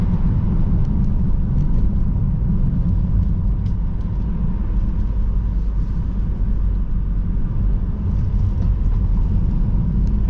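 A car drives along a valley road toward Flotterton, its engine and tyre rumble a steady, loud low drone heard from inside the cabin, unbroken by talk.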